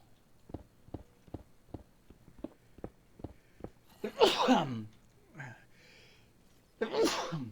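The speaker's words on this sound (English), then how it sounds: "Lots of sneezing today." A person sneezes loudly twice during Minecraft play, following a run of soft, regular clicking or tapping; the sneezes are close and forceful with a breathy tail.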